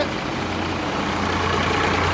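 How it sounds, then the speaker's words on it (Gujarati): A tractor's diesel engine idles at about 1100 rpm with a steady low rumble and hum, unchanging throughout, heard up close with no voices. "હવે આપણે ટ્રેક્ટર બતાવીએ."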